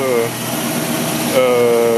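A 1966 Mercury Cyclone V8 idles with a steady, low, throbbing rumble, close and even throughout, with a voice talking over it.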